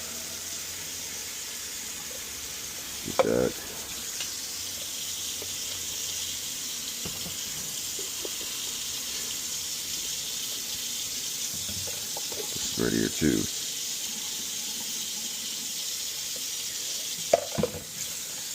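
Steady running water pours into a sink throughout, with a few brief clatters and short bits of nearby speech over it.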